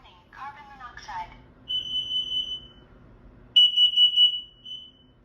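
A home smoke alarm being tested gives two long, shrill electronic beep bursts, the second louder, after a brief voice at the start.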